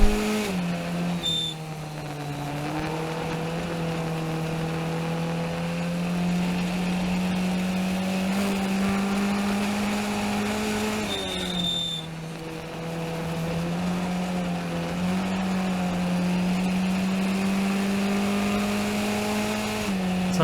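Race car engine heard from inside the cockpit during a 2019 race, a loud steady droning hum that holds mostly level pitch with brief dips around gear or throttle changes.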